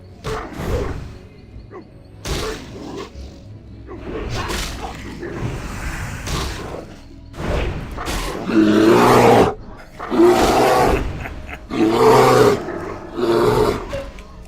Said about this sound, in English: there was a bear, so I guess that's the appropriate sound effect